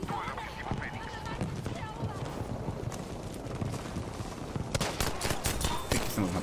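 Rapid pistol gunfire in the shooter game Battlefield V, dense repeated shots mixed with battle noise, heard under continuous talk.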